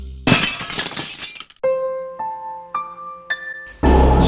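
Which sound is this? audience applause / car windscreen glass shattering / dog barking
car windscreen glass shattering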